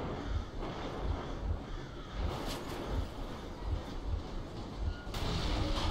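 Armored train rumbling on rails in the game Metro Exodus, a steady low mechanical drone with rhythmic thumps of wheels, wind noise over the microphone, no talk.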